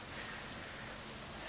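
Heavy rain ambience during a tabletop role-playing game session, a steady dense hiss of downpour holding constant and loud throughout with no voices over it.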